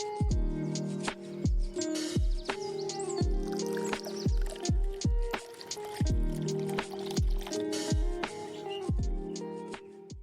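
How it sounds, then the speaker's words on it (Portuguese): Pie batter being stirred and beaten in a bowl, with a steady run of sharp, regular strokes and wet slaps at a brisk rhythm, close and fairly loud, with no voices. "Aí eu vou mexendo pra ficar bater tudo uniforme."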